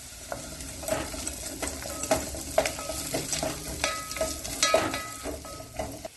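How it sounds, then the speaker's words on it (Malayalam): Sautéed carrots and beans stirred in a pan with turmeric: a spoon scrapes and clinks against the metal in irregular strokes over a soft, steady sizzle, close by, with no talking. "1/4 ടീസ്പൂൺ മഞ്ഞൾപ്പൊടി ചേർത്ത് ഇളക്കി കൊടുക്കാം."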